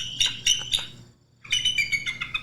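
A person imitates an eagle's call with warbling, high chirps: a burst of quick twittering notes, a brief pause, then a second longer run, close and fairly loud with no other talk.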